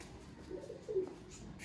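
Sialkoti pigeons in a Lahore loft give a faint, low coo or two, soft and close against quiet background noise.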